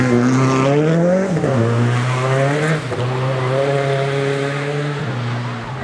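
Loud, close rally car engines with different setups drone and rev side by side on a rally stage, pitches rising and dipping as they shift, with a rough buzzing roar throughout.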